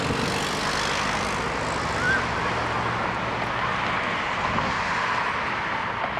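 Pratt and Whitney 4000 engines on a Korean Air Boeing 777-200ER roar steadily and loudly during takeoff from Toronto Pearson, a broad continuous rushing drone with no talk.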